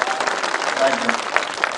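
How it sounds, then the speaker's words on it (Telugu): A crowd at a political gathering claps loudly to thank a state minister, a dense ongoing patter of many hands with a few sharper individual claps and a voice talking over it. "మంత్రి గారికి గట్టిగా చప్పట్లతో కృతజ్ఞతలు చెప్పండి"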